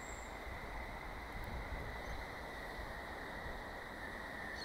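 Sydney Trains service approaching platform 3 at Summer Hill, a steady rolling rumble with high wheel whine, continuous and fairly quiet with no voices.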